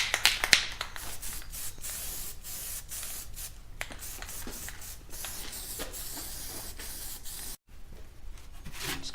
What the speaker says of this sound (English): we're going to go through with our weld-through primer and spray the whole back side of this